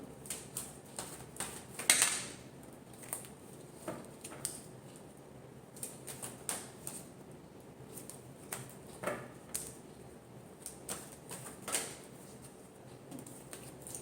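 Tarot cards being shuffled and handled, a quiet run of crisp, papery riffles and taps repeating irregularly through the whole stretch, close by with no talk.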